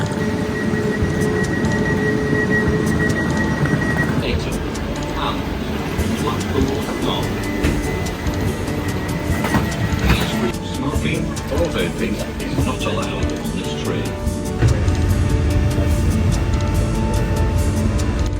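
Steady rumble of a passenger train ride in England, wheels and carriage noise rolling continuously, with people talking over it and brief tonal chimes.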